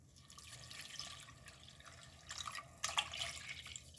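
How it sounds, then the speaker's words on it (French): Milk, about 500 ml, is poured into a pan while making a creamy sauce for bolognese lasagna, a faint liquid trickle and splash that grows a little louder toward the end. "je vais renverser mes 500 ml de lait"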